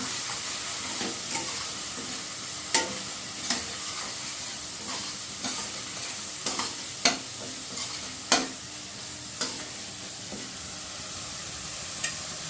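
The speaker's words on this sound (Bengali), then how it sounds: "এবার এই মশলাটা ভালো করে আমি তেলের সঙ্গে মিশিয়ে নিচ্ছি।" Onion and tomato masala paste is stirred into hot oil under a soft, steady sizzle. Occasional sharp scrapes and knocks of the spoon against the pan land at uneven intervals.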